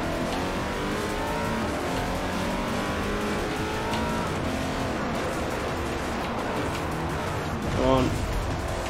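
Race car engines in the Forza Motorsport 4 racing game, a constant loud engine drone with shifting revs and a brief tire squeal near the end, while someone talks over it.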